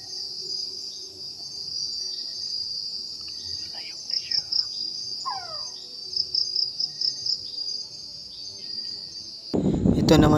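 A Philippine frogmouth calls at night in two brief bursts of short descending notes, heard over a steady, loud chorus of crickets and insects, before a sudden close rustle at the end.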